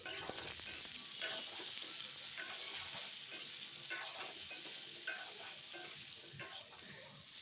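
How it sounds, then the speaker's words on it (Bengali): Potatoes frying with turmeric powder in hot oil for a chicken curry, a steady bright sizzle with intermittent stirring scrapes, fairly quiet and alone. "তো হলুদের গুঁড়া দিয়ে আমি ভালো করে একটু এটা ফ্রাই করে নিচ্ছি।"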